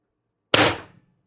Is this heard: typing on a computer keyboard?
no